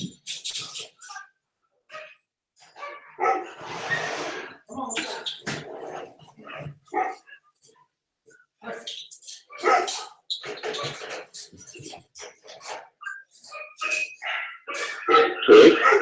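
Several dogs at home bark, growl and whimper in rowdy bursts over about sixteen seconds, fairly close, with people talking among the noise.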